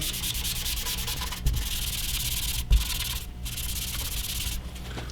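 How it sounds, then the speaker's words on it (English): Steel wool scrubs wood stain into a wooden surface with a steady, close, gritty rasp. It runs continuously with a few brief pauses and no talking. "The steel wool trick will fade all of this nicely. I'll rub it in like so."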